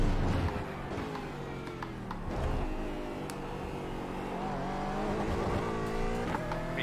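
Aston Martin GT4 race car in the iRacing video game powering up a hill, a steady engine drone climbing in pitch as it accelerates, with a brief tire squeal, heard alone and fairly quiet.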